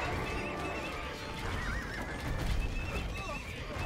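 Horses neighing and whinnying in Age of Empires 2, several overlapping cries over a dense battle din with hoofbeats and clatter, with a voice talking faintly underneath.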